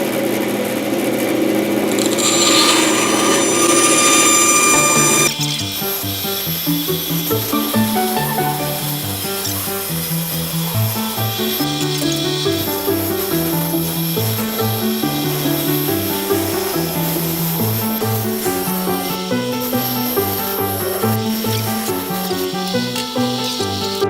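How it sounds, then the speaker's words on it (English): A bandsaw cuts oval shapes from a piece of maple in a workshop, giving a steady loud whir with the blade's rhythmic buzzing as it works through the wood, with no talk. "going to cut them out on the bandsaw"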